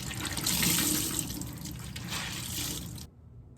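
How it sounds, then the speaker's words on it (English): Water splashes and runs steadily while a milk-soaked vintage rap T-shirt is wrung out and washed, a loud close wet rush that ends abruptly. "we're gonna wring it out, we're gonna wash it"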